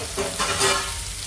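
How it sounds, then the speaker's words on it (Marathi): Bombay duck (bombil) fish shallow-fries in a pan with a continuous close sizzle and light stirring noise, no voices. "एक बाजू आपल्याला फ्राय करून घ्यायची आहे शॅलो फ्राय करून"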